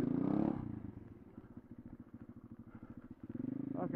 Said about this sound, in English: Almost getting hit by some stupid little kid on an RM 125.